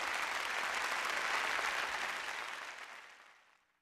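A crowd claps at an awards night, steady dense applause that holds for a couple of seconds and then tapers away to silence, moderately faint and heard alone.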